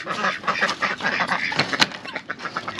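A flock of ducks quacks busily nearby, overlapping calls chattering continuously with a few louder honks.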